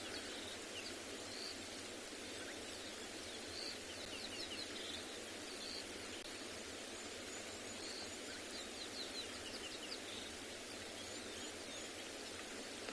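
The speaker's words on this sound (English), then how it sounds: "Just sitting and listening to the birds." Faint birds call and chirp on a morning safari in the South African bush, with distant calls scattered over a steady hiss of background noise.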